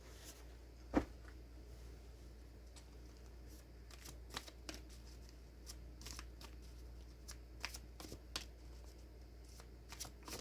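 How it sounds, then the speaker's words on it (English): Tarot cards being shuffled and drawn, giving faint, scattered papery flicks and soft snaps over a quiet room hum, with one sharper tap near the start and no talk. "Let's pull out the rest of the tail cards."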